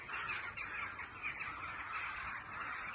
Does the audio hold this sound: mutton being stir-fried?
no